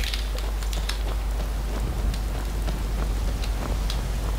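Steady rain falling in the Skyrim video game world, a dense, even hiss of drops spattering on surfaces with scattered sharper drips, continuous and fairly loud throughout with no talking.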